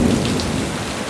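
Heavy rain pours steadily during a violent windstorm where a warm front meets a cold front, with a low rumble of thunder underneath. The wash of rain stays loud and close throughout, with no voices.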